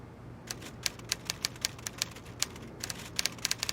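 Typewriter keys clatter in rapid, uneven bursts of sharp mechanical clicks in the Agatha Christie: Evil Under the Sun video game on Nintendo Wii, close and clear over a quiet background with no voices.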